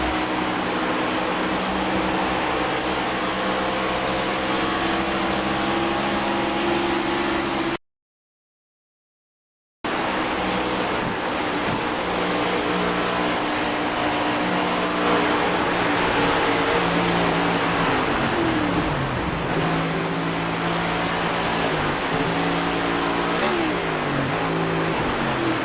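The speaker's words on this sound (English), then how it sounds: "turn the mics down, turn the engines up, let these drivers rip around Texas Motor Speedway" Race car engines drone continuously at Texas Motor Speedway, a steady layered roar with shifting pitch as cars pass, broken by a two-second gap of silence.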